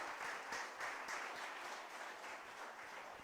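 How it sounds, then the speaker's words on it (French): Church congregation applauding together, a steady dense wash of clapping that holds at an even level throughout with no voices standing out. "Frère, donnez acclamation à Jésus, ce qu'il fait pour vous."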